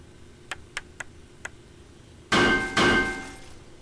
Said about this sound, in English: Well, we'll switch to the hammer.